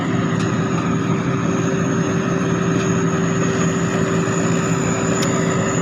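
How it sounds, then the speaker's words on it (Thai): A Hino JO8C diesel engine on an SS-300 combine harvester runs at steady idle with a turbo, a constant loud low rumble and a fixed whine that hold evenly throughout with no voices. "เครื่องยนต์ฮีโน่ครับ"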